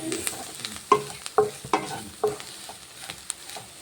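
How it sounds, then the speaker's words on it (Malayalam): Chicken masala being stirred and fried in a pan, with a steady low sizzle under several distinct scraping clinks of a spoon against the pan, close and fairly quiet, with no talking. "ഇനി അത് നമുക്ക് നല്ലപോലെ ഒന്ന് ഇളക്കി മിക്സ് ചെയ്യും."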